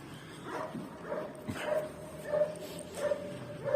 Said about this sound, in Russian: Собачка там привязанная лает.